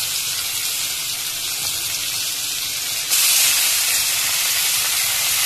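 Cumin powder, garlic paste and green chilli sizzle in hot oil, a steady loud broadband hiss that swells slightly partway through, with no speech over it.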